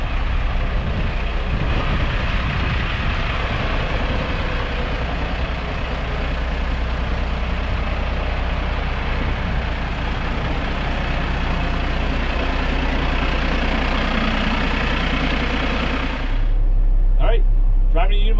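Diesel engine of a Unimog idling while it warms up, a steady close rumble that holds for about sixteen seconds before the sound shifts abruptly near the end.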